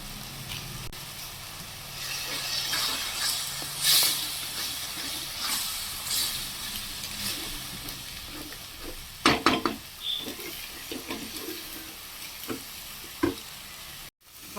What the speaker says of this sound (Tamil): பாருங்க, நல்லா வதங்கிட்டு இருக்குது